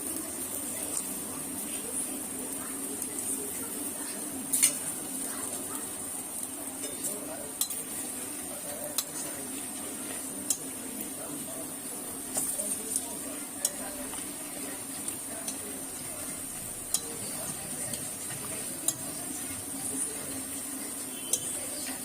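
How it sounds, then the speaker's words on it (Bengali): Dahi vada balls frying in hot oil in a home kitchen, a steady low sizzle with occasional light clicks of a utensil against the pan, heard close with no talking. "একটা ভালো করে ভাজা দেখিয়ে দিচ্ছি"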